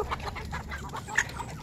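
Bantam chickens cluck softly at feeding time, a scatter of short calls over a steady low farmyard background, at moderate distance.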